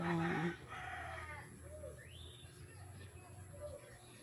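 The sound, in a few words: chickens clucking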